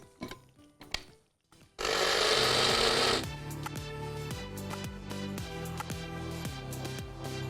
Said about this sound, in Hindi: अगर आपके पास भी इस तरह से एनेक्स की ये स्पाइस ग्राइंडर मौजूद है तो फटाफट से आपका काम सेकंड्स में हो जाता है